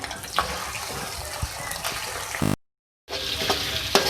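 Ginger garlic paste frying in a pan with greens, a close continuous hissing sizzle with a few clinks, broken by a short silent gap before the frying resumes.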